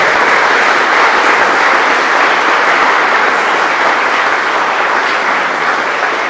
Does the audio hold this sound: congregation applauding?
yes